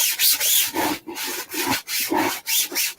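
Sandpaper rubbed back and forth over a wooden piece, loud, close rasping strokes in a regular rhythm of about six passes, no talking.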